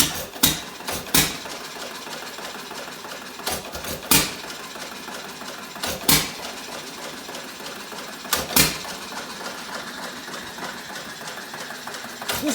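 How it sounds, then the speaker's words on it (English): An antique 1926 or 1928 engine runs nearby, giving sharp, irregularly spaced popping beats over a steady mechanical hum. "I think this is a 1928 or 1926 engine"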